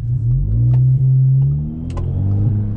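An Audi car with a throttle controller installed accelerating, a loud steady mid-pitched engine drone that rises slowly as the gas is pressed, with a couple of brief clicks over it and no talk.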